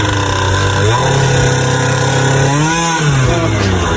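A two-stroke motorcycle engine revs hard toward high RPM, a loud, continuous, buzzing whine that rises and dips in pitch as the throttle is worked, heard close up with no talk over it.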